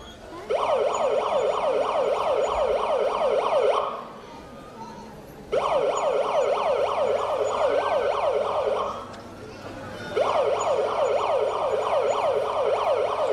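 An ambulance siren wails in three long bursts of rapid rising-falling tones, loud and close, separated by brief quieter gaps.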